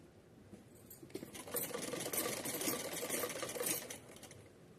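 A sewing machine stitches a thin folded strip on a small dress for a Laddu Gopal idol, one steady run of a few seconds, soft and close with no talking.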